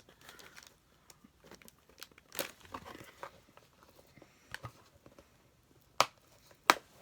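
Heavy, crinkly plastic handled up close, giving quiet, sporadic crackles and a few sharp snapping pops between stretches of near silence.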